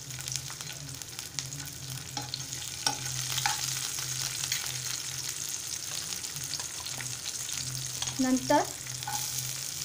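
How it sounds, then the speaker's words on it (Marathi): Garlic and green chillies frying in hot oil for Maharashtrian egg bhurji, a steady close sizzle with occasional scraping stirs and a brief louder crackle near the end, one word spoken briefly. "तेल गरम झालेलं आहे। आता आपण लसूण घालूया, नंतर हिरव्या मिरच्या घालूया"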